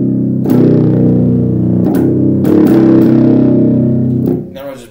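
A loud, sustained distorted bass guitar tone through a distortion effect, with gritty harmonics, from a bass cover of a song, held steadily for several seconds before cutting off abruptly near the end.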